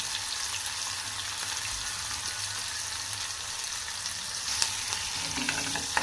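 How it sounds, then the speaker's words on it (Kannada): Onions frying in a pan give a steady, close hiss and sizzle, with a few faint stirring scrapes and no talking. "ಈರುಳ್ಳಿ ಹಾಕ್ತಾಯಿದ್ದೀನಿ ಈರುಳ್ಳಿ ಫ್ರೈ ಆದಮೇಲೆ ಒಂದು ಈರುಳ್ಳಿ ಹಚ್ಕೊಂಡಿದ್ದೀನಿ"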